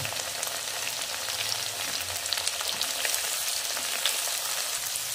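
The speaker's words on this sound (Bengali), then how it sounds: "আর আলু আর পেঁয়াজ ভেজে নেব" Potatoes and onions frying in a pan, a continuous bright sizzle with faint crackles and occasional stirring, close up and steady without any talking.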